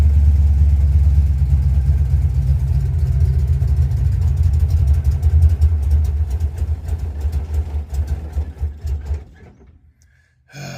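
A car engine fitted with an Edelbrock 1405 carburetor runs loud and close at a rough, low idle, its rumble wavering and sputtering toward the end before dying out into near silence.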